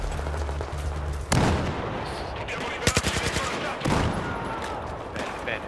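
Rapid automatic gunfire and sharp individual shots crack through a Battlefield 4 battle at a dam, loud close bursts with a quick rattling volley, some speech faintly mixed in.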